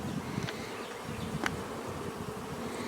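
Honey bees crawling over a hive frame laden with pollen, honey and nectar, giving a steady close insect buzz throughout with a couple of brief louder wing flicks, no voices.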